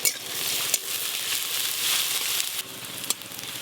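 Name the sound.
onions and green chilies frying in mustard oil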